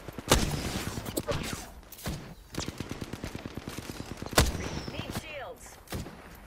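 Gunfire during an Apex Legends ranked match, a rapid series of shots with a few sharp louder cracks standing out amid steady bursts, close and punchy.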